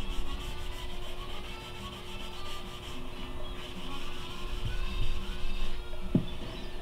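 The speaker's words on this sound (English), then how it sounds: "Then I'm going to use the buffing pad and take off the excess and buff it down" A buffing pad rubs matte finishing creme into painted furniture, a soft continuous scrubbing and rasping texture with a low steady hum underneath, close and fairly quiet, with no talking.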